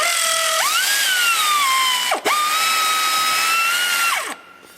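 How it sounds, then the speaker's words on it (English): Air ratchet spinning out a 13 mm bolt on the starter of a 2019 Ram 3500 6.7L: a loud, high whirring tool run, briefly interrupted by a stop before spinning up again, then cutting off at the end. "we got the air ratchet, 13 mil"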